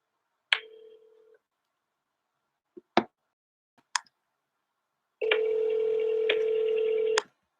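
Telephone tones from an outgoing call: a short tone, a few sharp clicks, then a steady buzzing tone for about two seconds, heard close and alone with no talk.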